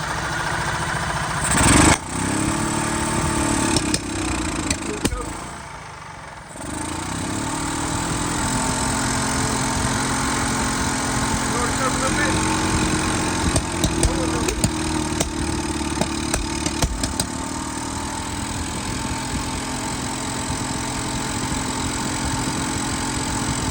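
A gas golf cart engine runs steadily close by, a loud mid-pitched drone with a brief revving surge early on, then a sustained idle carrying faint ticking.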